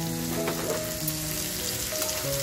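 Kingfish strips fry lightly in a pan, a continuous close hissing sizzle with light crackles, and a faint steady tonal hum running underneath.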